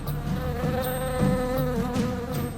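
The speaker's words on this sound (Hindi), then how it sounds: "तो यही है वो मधुमक्खी का छत्ता।" A dense, steady buzz of many bees swarms around a beehive, a continuous droning hum with individual insects passing close, constant in level throughout.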